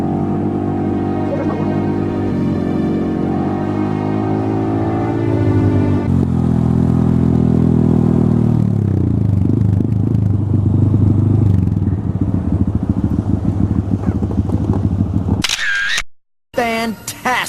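Motorcycles fitted with Zoom exhausts ride past at a Shoreham gathering, their engines droning and revving loudly and close for a long stretch, with people talking over the noise.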